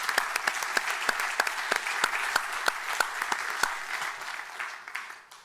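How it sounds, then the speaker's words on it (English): Audience applause at a community forum introducing finalists for Tampa police chief, a crowd clapping steadily for several seconds and tapering off at the end, with no voices over it. "Let's give Mary a round of applause."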